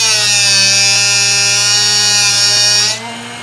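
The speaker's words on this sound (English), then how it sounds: "And we just push it in and let the grinder do the work." A Drill Doctor 750x grinder sharpens a drill bit, giving a loud, steady, high motor whine with a buzzing grinding edge close by. It drops abruptly near the end as the bit comes off the wheel.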